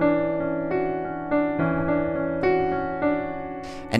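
Arpeggiated piano figure from a song, with the alternating notes played by the left-hand thumb. Quick, even note attacks ring close and clear for a few seconds, with a brief noise at the end.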